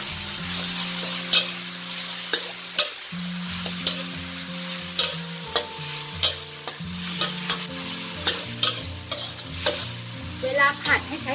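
Liver stir-fried in a hot pan for Thai basil liver (pad kra pao): a steady sizzle with repeated sharp scrapes and knocks of the spatula against the pan, close and fairly loud, with no voices.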